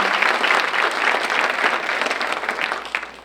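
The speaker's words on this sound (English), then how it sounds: "Please give them a round of applause." A theatre audience in an arts center claps in a dense, steady round of applause, loud and close, sustained without a break and with no talk over it.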